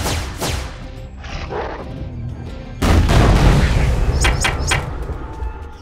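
Swords and Soldiers II game battle with heavy booming impacts and crashes, a dense rumbling blast midway followed by sharp cracking hits, loud and close with no talking, consistent with a Meteor Strike spell.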